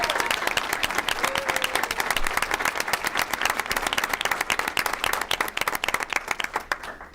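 Sustained applause from a school audience for a JV pom-pom team, dense overlapping clapping that holds steady before thinning toward the end.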